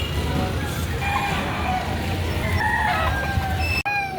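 Chickens at a rainy livestock auction market in Batangas: steady clucking and crowing mixed with a busy outdoor crowd murmur, a short sharp knock near the end.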